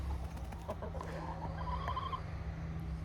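Backyard chickens cluck softly in short, scattered calls over a low steady rumble, fairly faint and close-by.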